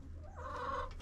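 A hen clucks in a nesting box in a backyard coop. One short, fairly close cluck rises over a steady low background noise.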